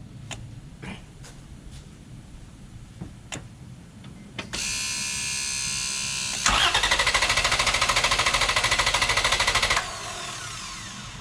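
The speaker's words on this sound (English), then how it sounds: "I'm going to go see how many cranks we get." A car engine cranks and fires using a LOKITHOR JC400 jump starter: a few light clicks, then a loud rapid starter whir, jumping into a harsher, rhythmic cranking for several seconds before easing to a lower running rumble, close by.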